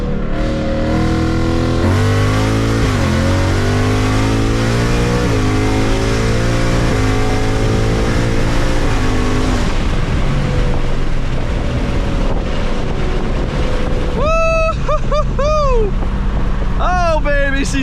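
A 2024 Ford Mustang GT V8 accelerates hard through its gears, loud and close, the engine note climbing and dropping with each shift, ending in sharp rising revs with crackles.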